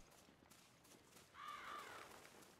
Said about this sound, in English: Get out of here, birds.